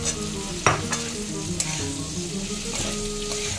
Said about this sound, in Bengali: উচ্ছেটা লাল লাল হয়ে এসছে, এবারে আমি এর মধ্যে আলুটা দিয়ে দেবো।